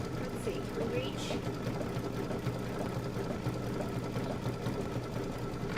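A Baby Lock PQ 1500 sewing machine runs in a quilting room with a steady, fast stitching whir. It hums along at moderate level beneath occasional faint voice and handling noises.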